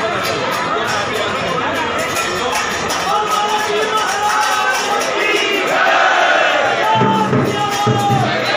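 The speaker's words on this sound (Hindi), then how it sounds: "प्राण प्रतिष्ठा महोत्सव में भक्तों की भीड़ रही।" A dense crowd of devotees at a temple consecration festival in Ratlam, loud and continuous, with overlapping voices, shouts and a steady babble filling the whole stretch.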